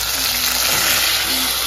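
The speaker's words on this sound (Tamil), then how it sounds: "சரி நல்லா வதங்கட்டுருக்கோம். நம்ம வந்து தக்காளி சேர்த்துக்கலாம்." Onions and tomato frying in a pan for a home curry, a steady dense sizzle that holds evenly close to the microphone throughout, with no talk over it.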